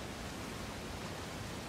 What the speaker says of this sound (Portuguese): Mais uma cascata.